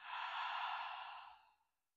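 A long, airy exhale through the mouth during a yoga session, a soft breathy sigh that swells and fades out over about a second and a half, close and alone with no talking.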